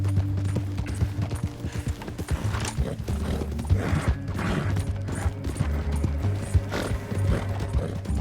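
Horse hooves clip-clop steadily in Red Dead Redemption 2, with a mechanical creak and an occasional whinny amid a continuous low hum and game ambience, with no talking.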